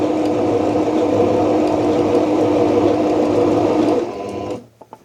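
A sewing machine stitches a seam for a hat, giving a loud, fast, even mechanical whir that runs steadily for about four seconds before winding down and stopping.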